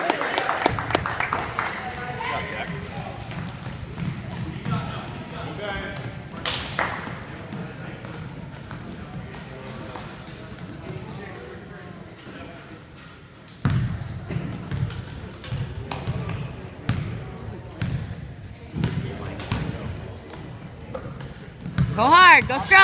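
Basketball dribbling during a game, irregular ball bounces and thuds on a court scattered through crowd noise, with cheering, clapping and people talking throughout, a loud burst near the end.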